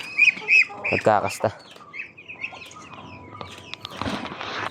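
Domestic ducks on a backyard farm give a few short, nasal calls near the microphone at the start, then fall quiet while a person speaks briefly.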